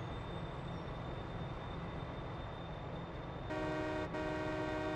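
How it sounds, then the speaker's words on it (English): Train horn in Farming Simulator 22 gives two steady tonal toots starting near the end, a short gap between them, fairly quiet over a constant background rumble of the game. "I wish the horn was louder too, though. The horn is not loud enough."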